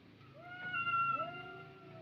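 A courting cat lets out two drawn-out, rising meows close by, the second stretching into a wavering cry over a quiet room.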